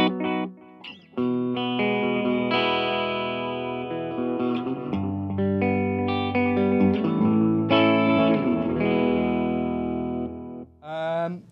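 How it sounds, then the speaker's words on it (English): Guitar played through the analog delay on a Blackstar ID:60 amp, a continuous run of distorted notes and chords smeared by warm repeating echoes, steady and fairly loud, with no voices over it. "Next up, we've got analog delay, and that sounds a bit like this."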